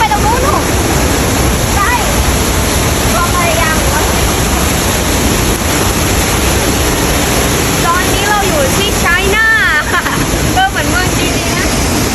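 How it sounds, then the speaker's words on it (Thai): Tad Yuang waterfall in Laos roars as a steady, loud wash of falling water, continuous throughout, with brief voices and chirpy sounds faintly above it. "ทุกคนเราก็มาอีก ที่น้ำตกตาดเยื่องนะคะ"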